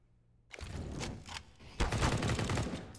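Bursts of gunfire from a Counter-Strike match on the Mirage map, a loud rattling volley that starts abruptly, pauses briefly, then resumes even more intensely, with no talk.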